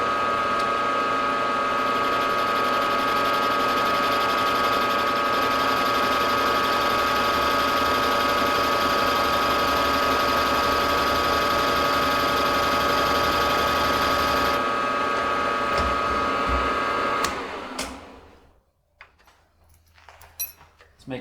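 A metal lathe cutting a small chamfer on the inner bore of a workpiece, a steady whirring machine hum with a faint cutting whine, close and continuous, then stopping abruptly near the end, followed by brief handling clicks.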